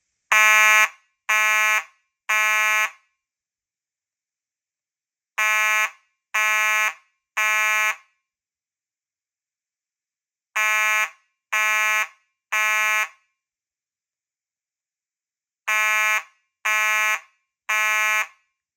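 A loud Simplex fire alarm horn blares temporal code 3, in repeating groups of three short blasts, each group separated by a few seconds of silence.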